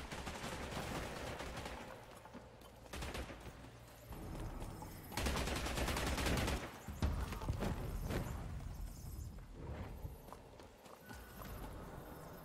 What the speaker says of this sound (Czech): Tady je teda přestřelek.